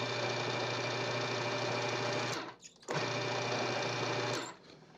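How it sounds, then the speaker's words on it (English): A blender pulses twice while mixing a Mediterranean dip: two loud, steady motor bursts of about two seconds each, separated by a brief pause, close and with no talking. "I just want to blend it just a little bit to kind of mix everything up."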